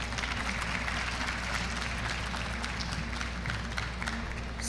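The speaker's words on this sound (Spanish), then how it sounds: "un aplauso" An audience at a Quito tech conference applauds after a talk, steady moderate clapping throughout over a heavy low hum of the room.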